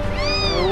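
A kitten gives a single clear, close meow with a rising and falling pitch, loud and alone with no talking.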